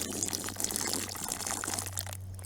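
Water being poured to drink, a continuous soft splashing trickle heard close up and alone for a couple of seconds.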